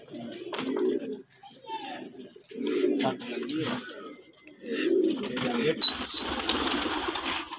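Pigeons kept by a pigeon fancier coo in repeated low, throaty bursts close by, with some brief chirps and wing sounds, while people talk at times nearby.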